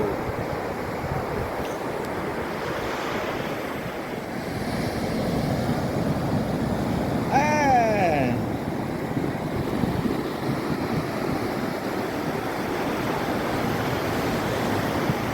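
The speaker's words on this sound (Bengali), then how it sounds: "এই রাত্রেবেলা সমুদ্রের ঢেউ আসছে" Sea waves breaking on Puri beach at night make a steady, full roar that rises and falls gently throughout, with a brief whistling tone passing over it midway.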